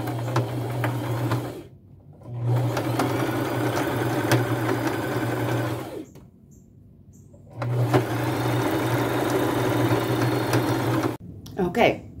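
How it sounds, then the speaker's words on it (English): A sewing machine runs zigzag stitches while pinch-pleating a vintage lace scarf, humming steadily in three long bursts separated by brief pauses, close and clear. "I'll just do a little pinch pleating as I sew it along the bottom again, using a zigzag stitch"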